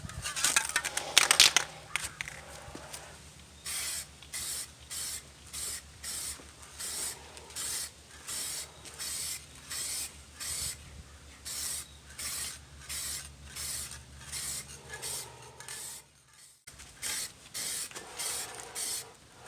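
Spray paint is applied in a series of short, even bursts to a car wheel rim during restoration, each hiss repeating in a steady rhythm close by, alone with no talking.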